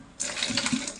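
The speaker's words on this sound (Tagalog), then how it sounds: "So, lalagyan ko ng mainit na tubig para" Hot water poured over a freshly caught eel, a short splashing gush that starts abruptly and runs steadily for about a second, close and fairly quiet.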